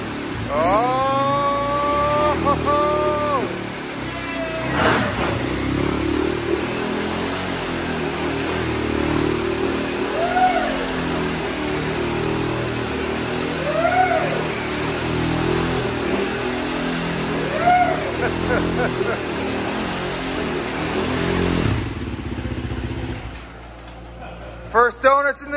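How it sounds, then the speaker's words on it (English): A quad fitted with barrel tires revs hard and spins donuts inside a shop, its engine note rising and falling in repeated sweeps with loud echoing roar throughout, while people shout and talk over it before the engine cuts off. "First donuts in the new shop."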